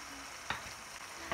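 Hot gram flour mixture for mohanthal, a Gujarati sweet, sizzling steadily in the pan as room-temperature milk goes in a little at a time, with a couple of short stirring scrapes close by.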